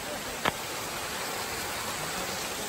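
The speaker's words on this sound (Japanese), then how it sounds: "滝になっているという。" A waterfall beside a descending trail on Mount Ena gives a faint, steady rushing hiss throughout, with a single brief click near the start.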